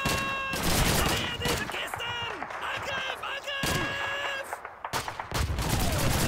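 Bursts of rapid gunfire and explosive thuds fill a Call of Duty 2 battle, loud and repeated in clusters, with in-game voices and a player talking over the shooting.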